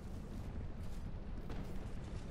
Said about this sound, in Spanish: que son ellas las que han hecho la explosión esa